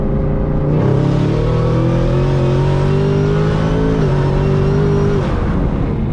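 A loud modified Chevrolet Camaro ZL1 engine revs hard and pulls through a long acceleration, pitch rising steadily, with a brief paddle-shift partway through, close and alone.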